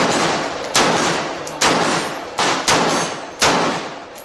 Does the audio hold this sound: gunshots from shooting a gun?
yes